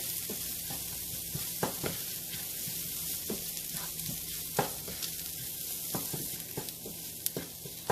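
Spicy crab masala being stirred in a pan, with a continuous loud sizzle broken by repeated rhythmic scrapes and taps of the spoon, close and without speech.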